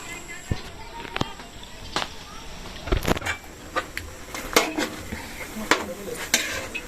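Vegetables are added to a sizzling pan at home, with stirring and scraping, utensils clinking against cookware in irregular knocks over a low sizzle, and people talking in the background.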